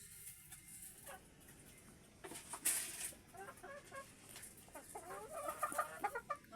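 Texas breed chickens cluck and chatter while being fed, in a busy, fairly close flurry of clucks and squawks over soft rustling background noise, with no talking.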